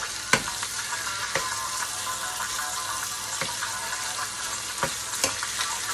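Butter warming in a pan gives a steady soft sizzle and crackle, with a few faint clicks and taps scattered through, close and without talk.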